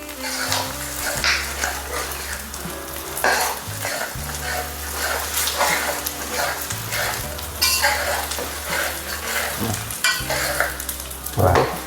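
Edible gum puffing and frying in hot ghee for Gujarati adadiya, with a continuous sizzle and crackle and occasional stirring clinks in the pan, while a person talks over it.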